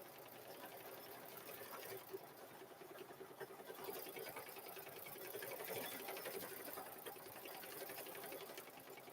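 A Luminaire 2 sewing machine quilts in the hoop with a continuous fast, even stitching drone, fairly faint, running steadily throughout.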